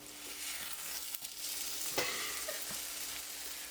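Food frying in a frying pan at a woodland cabin: a constant close hiss and crackle of sizzling oil, with a few sharper pops and clicks from stirring.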